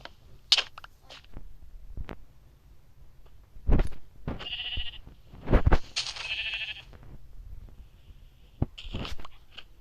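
Sheep bleating in a blocky skyblock survival video game: several short, nasal bleats spaced across the stretch, fairly close, mixed with clicks and crunchy game sounds and no talk.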